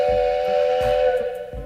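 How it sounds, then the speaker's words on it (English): A steam train whistle blows one long, loud, steady tone, played as a sound effect, with faint rhythmic thumps underneath. "I have a train whistle."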